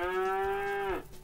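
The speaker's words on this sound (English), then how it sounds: "Shut up, cow." A cow in the farming video game Agrar Simulator 2013 gives one long, steady moo that drops off at the end, close and clear with no talk over it.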